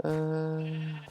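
A sheep bleats once in the Minecraft video game, a single sustained nasal cry lasting about a second, loud and close, with a brief spoken filler sound just before it.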